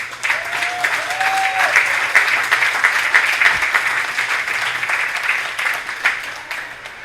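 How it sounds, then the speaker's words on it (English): A crowd at a Class B state amateur baseball championship applauds the tournament volunteers, a loud, sustained wave of clapping that holds steady for several seconds before tapering slightly at the end. "we appreciate a great round of applause for all volunteers"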